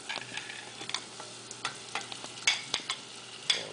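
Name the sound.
stirring diced tomatoes cooking in a pan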